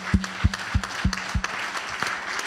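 A church congregation applauding Jesus during an Easter service, sharp rhythmic hand claps at a steady beat, moderately close, with faint background murmur.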